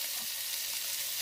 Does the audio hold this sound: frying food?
yes